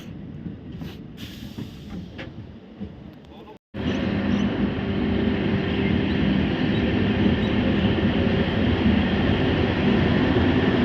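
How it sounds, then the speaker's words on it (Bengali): A passenger train departing Srinagar in Kashmir, bound for Banihal, rumbles along with a steady, loud roar and rattle after a brief quieter stretch with faint background sounds. "দেখো শ্রীনগর থেকে এই ট্রেন ছেড়ে দিল আমাদের আগামী গন্তব্যের দিকে"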